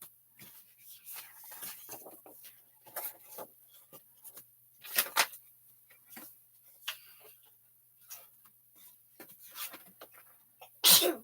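A single sneeze stands out amid quiet rustling and scattered small handling noises in a calm room.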